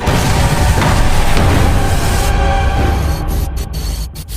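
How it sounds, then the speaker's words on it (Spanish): A loud, roaring blast from an animated energy weapon in Hazbin Hotel swells into a sustained rumbling explosion, then gradually thins and fades with crackling tail. "El disparo fue catastrófico. La explosión abre un cráter enorme en todo el pentagrama"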